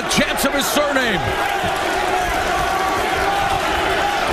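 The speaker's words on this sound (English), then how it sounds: "the crowd trying to rally Gita with chants of his surname" Kickboxing arena crowd chanting a fighter's surname, loud rhythmic massed voices with whoops early on, then settling into a sustained crowd roar.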